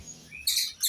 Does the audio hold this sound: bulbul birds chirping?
yes